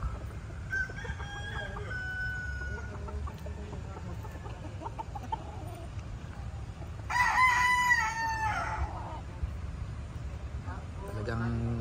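Several fighting roosters on a small farm in Calamba, Laguna crow at a distance, one louder crow standing out midway, over a low background rumble and faint clucking.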